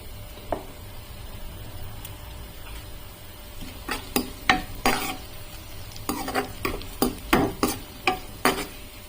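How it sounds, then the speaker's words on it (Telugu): Onions, green chillies and curry leaves frying in a pan for a simple potato curry, with a soft sizzle beneath a series of scraping stirs and taps that grow more frequent toward the end. "ఉల్లిపాయలు, పచ్చిమిరపకాయలు, కొంచెం కరివేపాకు వేసుకొని బాగా వేగించుకోవాలి."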